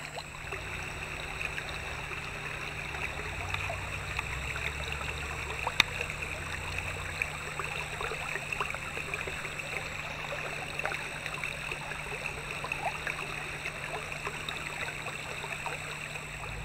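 A shallow stretch of the French Broad River, a small river, flows steadily during a boat float, giving an even, close trickling and rushing wash with no talk.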